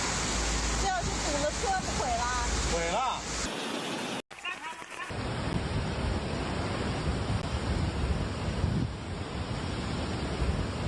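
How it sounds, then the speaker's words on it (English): Floodwater from heavy rain in Dongying, Shandong pours down building corridors like waterfalls, a loud, constant rushing roar that runs under a voice at first and then carries on alone. "turning corridors into waterfalls"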